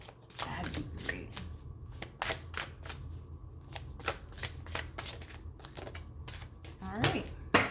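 Tarot cards are shuffled in a steady series of crisp riffling slaps and flutters, close and clear, repeating roughly every half second over a low background hum.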